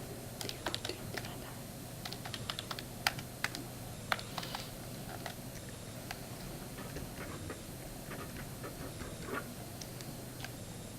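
Computer keyboard typing, quick irregular clicks of keys in bursts over a quiet room hum, soft and close, with brief pauses between runs.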